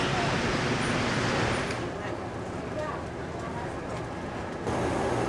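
Dense traffic on a Jakarta road outside the dedicated busway lane makes a loud, continuous roar of engines and tyres, with faint voices blended into the din.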